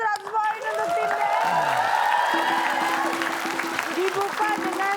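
A studio audience on a crossword quiz game show applauds steadily for about five seconds, with bright musical stings and sweeping effect tones layered over the clapping.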